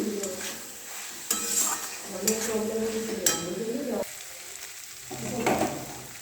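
Chilli paneer with tomato sauce stirred in a sizzling pan, a spatula scraping and knocking against the metal in uneven strokes over steady frying noise, close by, with some voice in the background.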